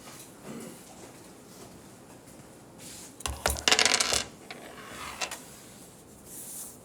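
Dice clatter and rattle across a hard surface in a precalculus classroom, a short burst of rolling clicks followed by a few settling taps.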